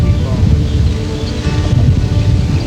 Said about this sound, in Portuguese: A gente tá vendo o trovão aí, o vento tá trazendo lá pra cá